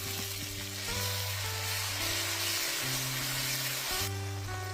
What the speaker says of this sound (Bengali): এবার পেঁয়াজ বাটা দিয়ে দিচ্ছি